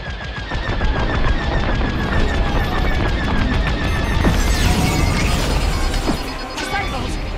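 Starfighter weapons in the Star Wars: Squadrons video game firing on a refugee convoy: dense, loud bursts of rapid blaster fire with whooshing passes and sharp impacts, layered over a constant engine roar throughout.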